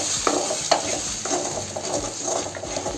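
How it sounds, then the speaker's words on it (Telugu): Eggs and onions stir-fried in a pan, with a steady high sizzle and irregular scraping strokes of a spatula against the metal, close and moderately loud, no talk. "గుడ్లు ఇట్లా కలిపెట్టుకునేసి బాగా ఫ్రై చేసేసాం"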